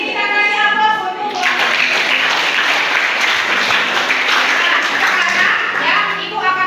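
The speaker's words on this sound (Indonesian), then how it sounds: "Oke, kita kasih aplaus untuk" An audience at a school coaching session gives loud, sustained applause of many clapping hands for several seconds, with a voice speaking briefly before it starts.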